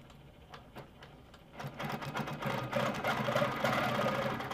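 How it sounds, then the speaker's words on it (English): An Amara ST sewing machine in cruise mode with its needle running: a soft mechanical rattle starts faint, then grows into a steady, louder whirring hum that continues without a break. "When I push play on the screen, the needle will immediately start moving"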